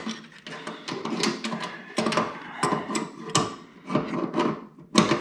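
Fuel line fittings are tightened by hand on a Cobra Daytona build, with irregular ratcheting and scraping metal clicks in short bursts, close and fairly quiet, without any talk.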